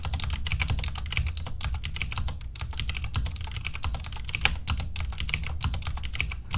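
Fast, continuous tapping on a computer keyboard while entering a fare table, dense clicks with brief pauses, close and steady, no voices.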